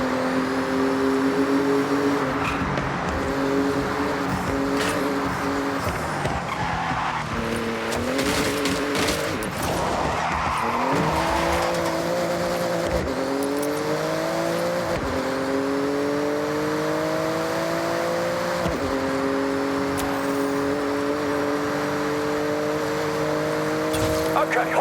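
A Porsche races through a speed zone in Forza Horizon 6, its engine revving loudly through repeated gear shifts with rising and dropping pitch, while voices talk over it.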